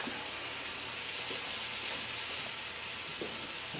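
Onion and garlic sizzle steadily in olive oil as chili begins to cook, a continuous quiet hiss of frying with faint pops, no voices.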